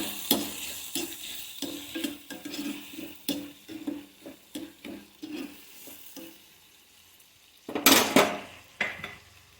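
Onions frying in a pan with oil, stirred in a steady run of scraping strokes with a spoon against the pan, a constant crackle underneath, then a louder burst of clatter and sizzle near the end; no talking.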